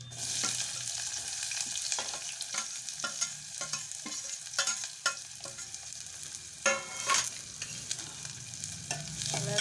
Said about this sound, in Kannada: ಎಣ್ಕಾಯ್ತು ಉಳ್ಳಾಗಡ್ಡೆ ಹಾಕ್ತೀನಿ